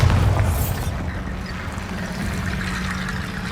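A Bombarda explosion spell in a video game: a loud, close boom at the start that decays into a rumbling, airy tail lasting a few seconds.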